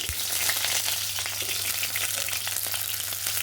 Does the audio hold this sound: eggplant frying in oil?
yes